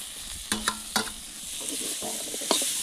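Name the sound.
potatoes added to meat frying in a pan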